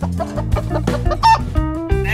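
Chickens cluck close by in a busy, uneven run of short calls, with one higher squawk partway through.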